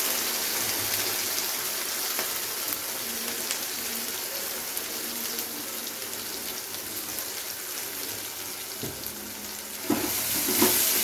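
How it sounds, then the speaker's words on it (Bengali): Prawn and onion-stalk bharta fries in a pan, an even, rain-like sizzle that runs throughout, with a couple of sharper clinks of a spoon toward the end. "খুব ভালো করে আমাদের এটাকে শুকনো করে ভেজে নিতে হবে"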